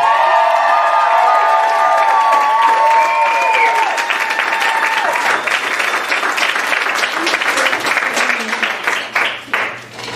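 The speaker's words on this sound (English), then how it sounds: "I want you all to give a warm welcome to Natalie Higgins!" An audience applauds and cheers as a presenter is welcomed onstage, with loud whoops and shouts at first, then sustained clapping that thins out toward the end.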